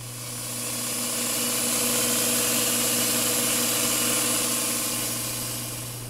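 A new air compressor runs steadily after being fired up, giving a continuous motor drone with a low hum and broadband hiss, loud and unbroken throughout, with no talking.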